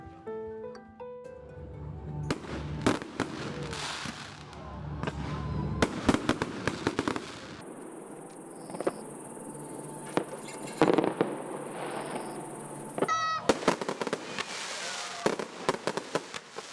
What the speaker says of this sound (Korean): 불꽃놀이가 시작되면 국남지의 낭만은 절정에 이릅니다.